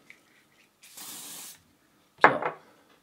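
A cosmetic spray mists out in one steady hiss lasting about half a second, followed by a sharp click and rattle of the can or cap being handled.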